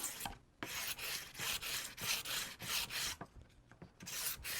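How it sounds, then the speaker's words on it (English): PVC pipe being sanded by hand with coarse 60 grit sandpaper, pressed hard to cut grooves: close, loud rasping strokes in a steady back-and-forth rhythm, with no talking. "I want this 60 grit to really dig in and create some nice grooves."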